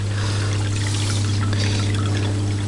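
Water pours steadily down a sluice box used for prospecting, guided by a rubber flap and a deflector, with a continuous close rushing trickle and a steady low hum underneath, and nobody speaking.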